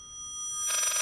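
A telephone rings inside the Layers of Fear horror video game, starting as a faint tone and swelling into a loud, buzzy electronic ring with rapid pulsing toward the end, alone with no talk.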